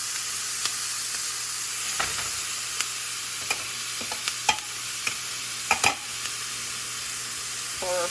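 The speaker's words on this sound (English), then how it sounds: "we're gonna add the chopped seasoning, onion, garlic, tomato, green onions, and thyme. So we'll add this and saute." Chopped onion, garlic, tomato, green onions and thyme sauté in a single pot for a one-pot meal, giving a steady soft sizzle broken by scattered spoon scrapes and clicks as the mix is stirred.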